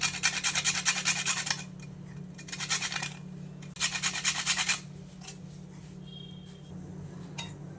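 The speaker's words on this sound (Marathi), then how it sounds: "आता यामध्येच आपण अगदी जायफळसुद्धा बारीक करून घेऊया" Nutmeg is grated fine into a puran filling made for wheat puranpoli, and the scraping comes as three steady raspy bursts of rubbing, close and fairly loud, with short pauses between them and faint clinks afterward.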